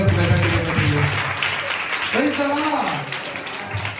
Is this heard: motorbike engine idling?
no